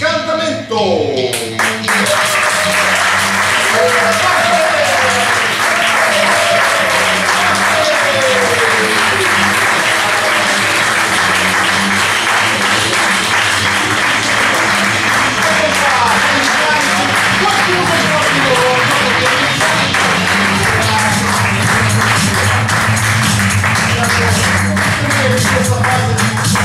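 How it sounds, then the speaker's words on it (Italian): A big ovation greets improv players as they enter for a warm-up at an improv theatre match. The dense, loud clapping sustains for over twenty seconds, with cheering and voices mixed in after a brief spoken intro. "tutti pronti a raccogliere con un grosso applauso i giocatori che entrano per il"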